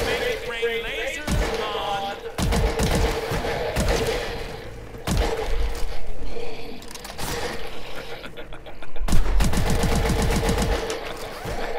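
A gun fires in the Advanced Warfare Exo Zombies video game in rapid thumping bursts, with mechanical clatter between the volleys and loud repeated shots in the final seconds.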